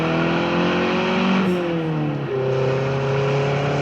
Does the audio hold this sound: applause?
no